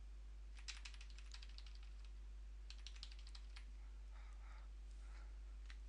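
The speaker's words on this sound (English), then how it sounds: "You can use the keyboard, hold down the shift key" Computer keyboard keys click in quick faint bursts, two short runs of typing separated by a pause, over a steady low hum.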